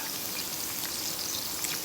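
Continuous crackling sizzle of pork frying on a Thai moo kratha tabletop grill fills the clip at a steady level without voices.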